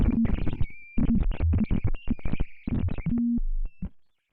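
Sonified space data played back as a modulated synth tone, with choppy, stuttering bursts of buzzy, effected sound broken by short gaps and sustained pitched notes, loud and close, ending in silence.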